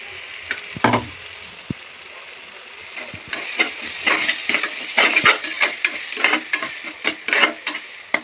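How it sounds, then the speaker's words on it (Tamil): A ginger, garlic, cinnamon and clove paste sautéing with tomatoes in a pan, with close sizzling and repeated scraping and clinking of a stirring spoon that grow busier toward the end. "நல்லா வதங்கிக்கலாம் நல்லா பச்சை வாசனை போக வதங்கட்டும்"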